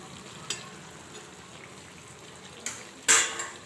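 Chicken being stirred and cooked in a pot for village-style biryani gives a soft, steady sizzle, broken by a few sharp metallic clinks and scrapes of a spoon against the pot, the last one loudest.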